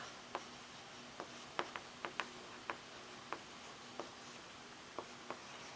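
Pen strokes and taps on paper while writing out a math lesson on number systems, a sparse series of soft close ticks spaced irregularly over a faint room hiss.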